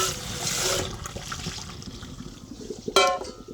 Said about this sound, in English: I'm gonna turn my butter down low. Pour my pasta out.